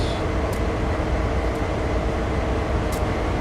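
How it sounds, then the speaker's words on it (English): A CSX freight locomotive in Train Sim World 6 pulls away from a standstill between Framingham and Everett near Boston, producing a steady, loud, dense engine rumble with a few faint high squeaks. "Give ourselves a little bit of throttle. And off we go."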